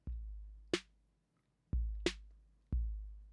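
Clean, undistorted 808-style kick and snare from Tiptop Audio Eurorack modules, passed through a stompbox converted into a module, play a slow alternating pattern: deep booming kicks with long tails and sharp, bright snare cracks, loud and dry with no other sounds.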